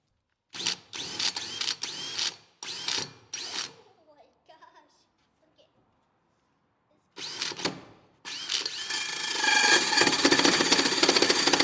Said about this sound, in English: Let's go ahead and drill this hole.